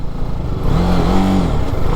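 TVS Apache RR 310 motorcycle engine revving in track mode, a loud steady drone with a rising, swelling pitch in the middle of the two seconds, close and without talk.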